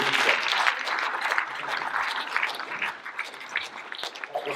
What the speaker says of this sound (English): A round of applause in Nairobi is called makofi.